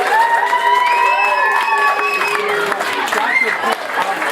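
At a community kickoff dinner, a crowd in a hall breaks into sustained applause mixed with cheering and whoops, loud and close, with voices calling out through it.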